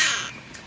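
Hahn's macaw parrot giving a single short, harsh squawk up close, fading quickly into quiet.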